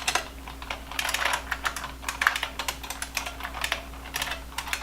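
Heavy computer keyboard being typed on steadily during a coding session, a quick irregular run of close, crisp key clacks with a faint electrical hum beneath.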